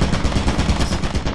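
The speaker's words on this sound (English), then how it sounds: "Turret! That's a turret!" Rapid, loud automatic fire from a turret in Lethal Company, a dense continuous rattle of closely spaced shots with no pauses.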